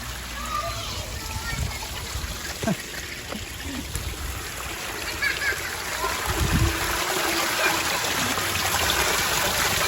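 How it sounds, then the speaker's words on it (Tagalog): Water pours through a concrete culvert from higher ground into a bathing spot, a steady splashing rush that swells slightly toward the end, with children's voices and someone talking over it. "So ito yung tubig, galing ito sa ibabaw."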